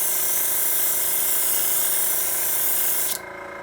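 A steady, hissing spray of paint onto model parts runs continuously for about three seconds, then cuts off abruptly, leaving a quieter mechanical hum.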